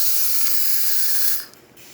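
Steam hisses strongly from the steam wand of a Gaggia Anima coffee machine, a loud, steady high-pitched rush that drops off abruptly near the end.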